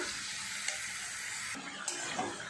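Mutton sautéed in a pot while being stirred, a close, steady sizzle with soft scraping strokes and small clinks, no voices.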